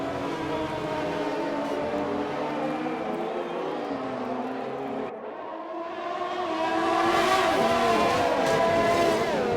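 Race cars in a Singapore Grand Prix racing video game, with intermediate tires on a wet track, drone past in a continuous engine roar that dips briefly midway, then swells louder as cars overtake.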